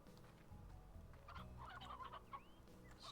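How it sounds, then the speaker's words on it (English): Chickens cluck in the video game Slime Rancher, a few short calls rising over a steady game soundscape with background music, moderately quiet and fairly close. "These chickens are so dang cute."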